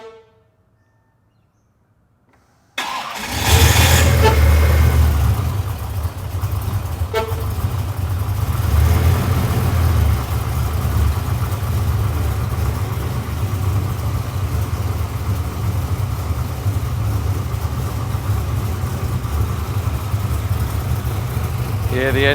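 A car started with the key and left idling after a PWR radiator has been fitted and the cooling system refilled with coolant. It fires up abruptly after near silence, then settles into a steady, loud, close idle that runs unbroken.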